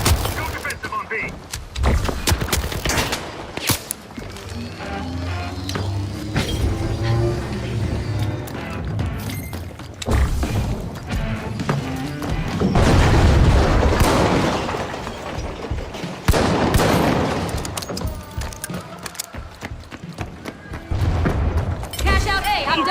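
Frag grenade thrown and exploding in the video game THE FINALS, heavy booms and gunfire crashing through a long chaotic stretch of combat noise with loud bursts.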